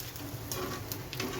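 Homemade rice-flour papad fries in hot oil in a wok, a brief, soft sizzle with light crackling ticks, close but quiet.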